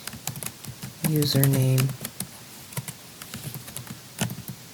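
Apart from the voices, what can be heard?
typing on a computer keyboard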